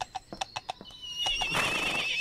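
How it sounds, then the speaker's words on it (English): A horse neighs in the video game Jazzpunk: a rising, wavering whinny rings out clearly after a run of short clip-clop-like knocks. "I've turned into a horse."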